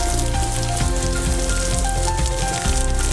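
Heavy rain falls on surfaces during a monsoon downpour, a dense, continuous hiss and patter that stays loud and even from start to finish.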